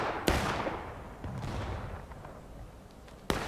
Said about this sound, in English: He's firing this way.